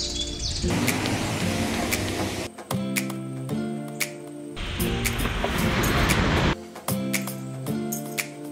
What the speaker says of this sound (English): Right now we're in the beach of Phuket